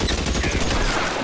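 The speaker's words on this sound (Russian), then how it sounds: "Ебать, они стреляют." Rapid bursts of gunfire in L.A. Noire VR crackle densely and loudly, shots overlapping into a continuous fusillade.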